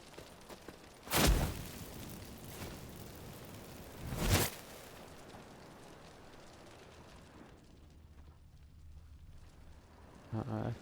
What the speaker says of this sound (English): Oh, I can loot them while they're burning.